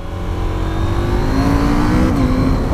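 A KTM SMT 890 motorcycle engine revs hard during a fourth-gear wheelie, a loud, close, continuous roar that climbs steadily in pitch.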